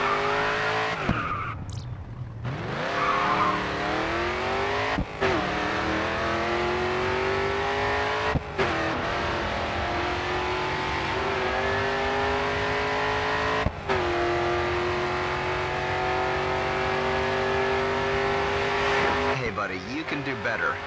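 A racing car in GRID 2 holds full throttle, its engine roaring loud and continuous with rising pitch through repeated gear shifts and brief cuts, under someone talking over it.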